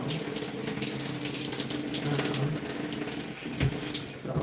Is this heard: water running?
yes